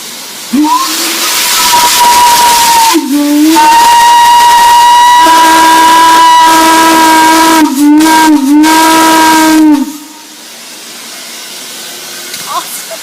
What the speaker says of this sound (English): it basically releases steam running it through the whistle